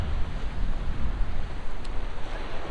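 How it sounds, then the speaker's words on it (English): Strong wind buffeting a microphone on a beach in northern Minnesota, a dense low rumbling roar that gusts continuously without pause. "It's gonna be a real test for the microphone because it's pretty dang windy right now."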